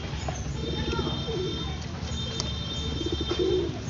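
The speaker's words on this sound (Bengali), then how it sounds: "কত পায়রা দেখ।" Pigeons in a home loft coo softly and repeatedly, fairly close, over a steady background hum with faint voices now and then.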